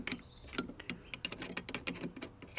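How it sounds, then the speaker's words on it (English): A 14mm spanner works nuts tight on an LPG vaporiser/reducer, giving quick, uneven metallic ratchet-like clicks and taps close by, fairly quiet, with no talking. "do up the nuts with a 14mm spanner"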